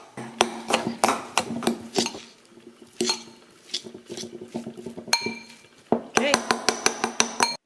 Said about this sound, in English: We also need to put in our can of tuna. There. And then we're going to mix it all up.